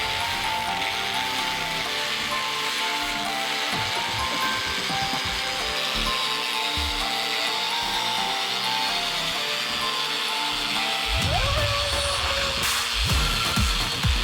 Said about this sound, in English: you can get a grinder and a wire wheel